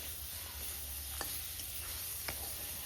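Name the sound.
potatoes frying with turmeric and salt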